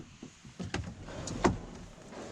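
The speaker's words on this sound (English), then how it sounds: "Oh, the other drawer." A drawer slides open inside a truck camper built on a Ram truck with a G56 transmission, giving a few short scraping and knocking sounds at close range, with one sharper clack in the middle.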